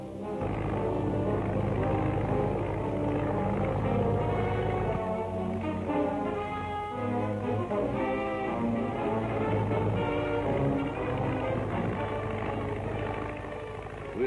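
Airplane drone in a 1946 serial, a steady propeller-engine hum with strong low tones that shift midway, sustained and fairly loud with no voices over it.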